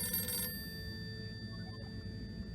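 A telephone rings in the video game Harold Halibut, a bright bell trill in the first half second, then quiet steady electronic tones over low room hum.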